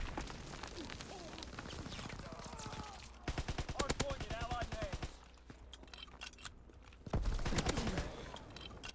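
A Grease Gun submachine gun fires in Call of Duty: WW2 in long, rapid automatic bursts that are loud and close. The bursts overlap other distant gunfire, and game voices are heard now and then.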